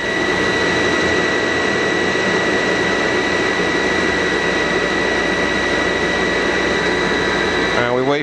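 Myford grinding machine running while waiting for spark out, a loud steady mechanical whine with high tonal hum and broadband roar, continuous and close, shifting slightly at the very end.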